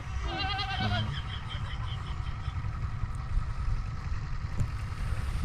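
Goats bleat in a short wavering cry near the start, then fainter bleats follow over a steady low engine rumble, on a river char island in Bangladesh.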